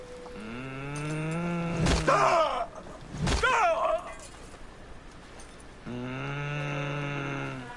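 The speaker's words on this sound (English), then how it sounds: "You ain't gotta snore like that" A character in Assassin's Creed Freedom Cry snores in loud, droning, voiced groans, one long snore at the start and another at the end, with two short, harsh, noisy breaths in between.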